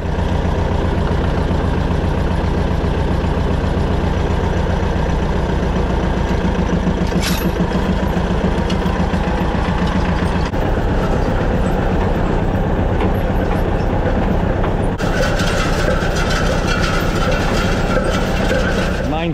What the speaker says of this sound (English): So we'll hook it up to the tractor here, drag it over, and see how we go with it.